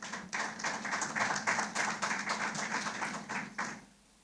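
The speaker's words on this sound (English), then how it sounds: "I think that deserves a round of applause" Applause from an audience at a press briefing in Montego Bay, a dense, steady patter of many hands lasting about three and a half seconds before cutting off sharply into quiet.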